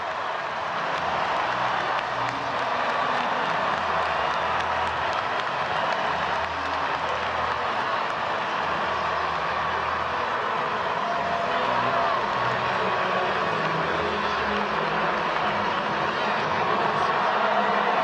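A full-capacity baseball stadium crowd at Camden Yards in Baltimore applauds and cheers in a steady, roaring wash that never lets up, with an announcer talking over it.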